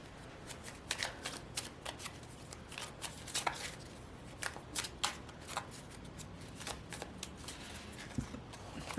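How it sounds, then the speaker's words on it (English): Cards from the Faceted Garden Oracle deck are shuffled by hand, giving soft, close, repeated riffling and slapping sounds that run steadily throughout without speech. "I'm going to pull a couple of these oracle cards. They are from the Faceted Garden Oracle."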